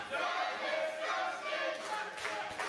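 Crowd at a wrestling tournament cheering and shouting in a steady, dense roar that holds throughout, with louder swells near the end.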